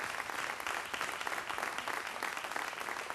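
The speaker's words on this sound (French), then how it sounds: "Vous pouvez l'applaudir, effectivement." An audience at a live show for a Corsican-language album release applauds with dense, steady clapping that holds an even level throughout.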